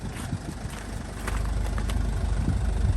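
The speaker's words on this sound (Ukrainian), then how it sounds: "Бачимо дуже м'яко, дуже тихо працює дизель." The diesel engine of a 2012 Renault Koleos idles steadily nearby, a low even rumble with a faint knock that grows slightly louder partway through.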